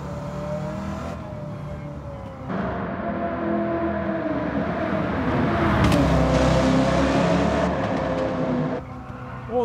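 Supercharged Dodge Charger, built as Dominic's car from Fast & Furious, in Gran Turismo 7: the engine revs hard and holds a high, whining drone that climbs and settles as it shifts, loud and close throughout.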